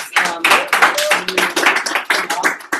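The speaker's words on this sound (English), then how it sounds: "Good round of applause" A small office audience gives a round of applause, uneven clapping in loose bursts with irregular gaps, close and fairly loud, with some voices mixed in.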